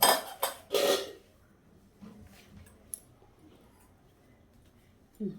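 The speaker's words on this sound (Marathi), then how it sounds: "हर्षीजचं हे चॉकलेट सिरप जे आहे ते दुधामध्ये घालून आपल्याला पुन्हा मिक्स करून घ्यायचं आहे" A spoon clinks and scrapes against a cup while Hershey's chocolate syrup is stirred into milk, loud bright clatter at first then quieter scattered taps and a final clink, close by, with no talking.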